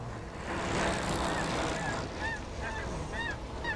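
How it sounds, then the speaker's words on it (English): Several geese honk in short repeated calls over a steady broad rush of noise, somewhat distant. "Let's have those geese again, Sam."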